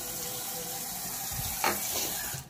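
Water splashes and trickles as a cup of water is poured into a bowl, a brief steady pour ending in a short splash.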